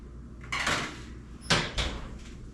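An oven door is opened and closed in a kitchen to put meatballs in, giving a couple of nearby clunks and sliding bumps with short pauses between them.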